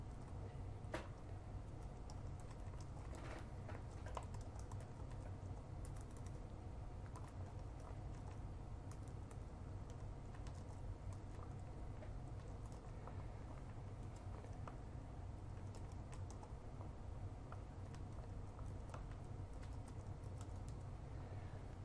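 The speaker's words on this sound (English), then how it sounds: "And we'll give this test a name." Faint keystrokes on a computer keyboard as a test name is typed into IMS software, with scattered soft clicks over a steady low hum and no talking.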